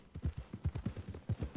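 Horse hooves clip-clop at a quick, steady gait in the video game Red Dead Redemption 2, a close run of soft, dull thuds with no voices over them.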